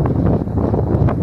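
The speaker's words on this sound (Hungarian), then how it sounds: "És most nagyon fúj is a szél." Strong wind buffets the microphone on a bridge structure beside Budapest's single-track HÉV suburban railway line, a continuous loud low rumble that gusts and swells throughout.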